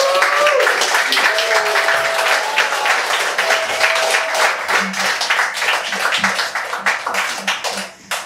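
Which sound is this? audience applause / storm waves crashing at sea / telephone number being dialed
audience applause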